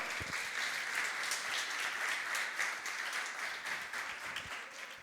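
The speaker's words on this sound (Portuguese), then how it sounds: "Você pode aplaudir o Senhor?" A church congregation applauds during a sermon, a steady wash of many hands clapping at even loudness throughout, with no voices rising above it.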